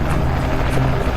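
A helicopter flies above a powerboat race on the Vaal River, its rotor chop and turbine drone loud and continuous, blending with the roar of the boats.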